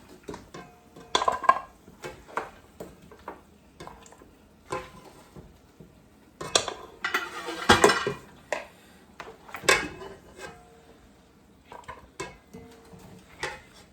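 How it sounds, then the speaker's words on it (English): Oxtail being moved into a pressure cooker, with a series of close metallic clanks, scrapes and knocks of utensils against pots in uneven bursts, nothing else audible between them. "Transferring the oxtail to the pressure cooker."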